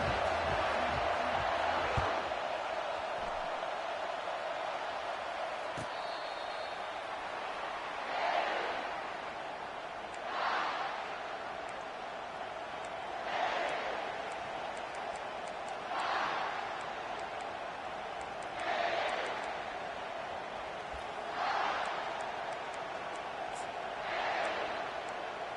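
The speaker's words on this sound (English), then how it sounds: "This crowd bringing an ear-splitting welcome to their visitors." A stadium crowd roars steadily in EA Sports College Football, a constant wash of cheering with periodic swelling surges about every few seconds and no clear speech.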